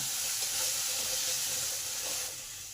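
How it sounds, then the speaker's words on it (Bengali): Papaya pieces with salt and turmeric sizzle steadily while stir-fried in a pan, a continuous close frying hiss that eases slightly toward the end, no voices. "নুন আর হলুদটাকে ভালো করে পেঁপের মধ্যে মিশে দিলাম দু মিনিট কষে নিলাম"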